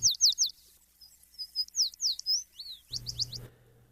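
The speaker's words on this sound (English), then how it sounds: "Male American tree sparrows are practicing their song, so keep an ear out for this melody" Song of a male American tree sparrow: clear, high, sweet whistled notes in quick repeated phrases, bright and fairly close against a quiet background.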